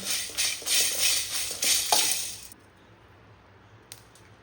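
Fenugreek seeds fry in hot oil with a crackling, bubbling sizzle in pulsing bursts that stops abruptly halfway, leaving quiet with one faint tap afterward.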